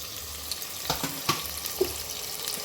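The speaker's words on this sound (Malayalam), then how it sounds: "എല്ലാം കൂടെ ഒന്ന് വഴറ്റട്ടെ" Onions, shallots, curry leaves and green chili sauté in a pan with a steady soft sizzle, broken by a few sharp clicks and scrapes from stirring.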